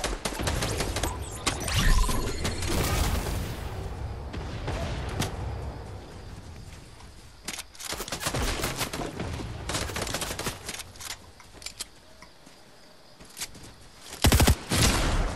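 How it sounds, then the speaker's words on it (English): Gunfire in a Fortnite match, with dense bursts of shots and booming blasts clustered early, then scattered sharp reports and a final loud burst, close and harsh over background game noise. "That's my shotgun, by the way."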